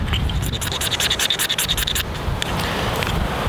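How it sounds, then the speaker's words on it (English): A knife scraping a magnesium fire starter block makes a run of quick rhythmic rasping strokes up close, then slower, looser scratching. "Typically the Doane's and the military issue magnesium scrapers are a lot harder and they don't scrape as easy."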